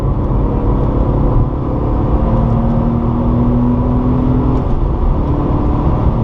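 A Porsche 997 Targa 4S pulls away on a circuit, its engine note rising smoothly under light throttle, a loud, close, continuous rumble with a climbing whine.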